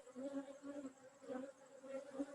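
Honey bees buzz softly at a hive during a hive check, a faint, steady hum that pulses gently as individual bees drift nearer and farther.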